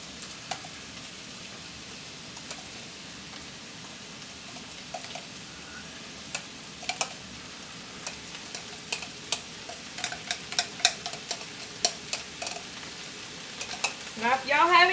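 A whole chopped onion fries in a Griswold No. 9 cast iron skillet, giving a quiet crackling sizzle dotted with sharp pops and utensil ticks that grow busier and louder toward the end.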